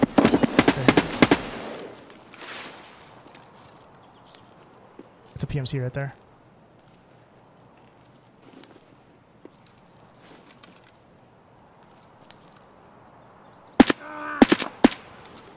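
Gunfire from another player in Escape from Tarkov, a short burst heard early, then scattered distant shots and a sharp cluster near the end, with someone talking over parts of it.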